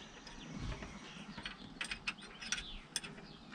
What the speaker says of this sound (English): We're gonna tighten up the bottom bolt.